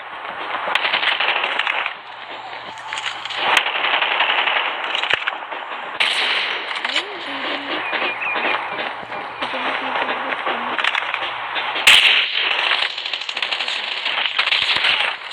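Sniper rifle fire in a shooter video game, sharp cracks and impact pops scattered through a busy, dense mix of game effects with occasional voice chatter underneath.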